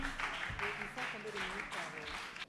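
Broadband applause from a studio audience at the close of a televised news-presenting contest, steady clapping noise filling the short stretch with a voice briefly over it.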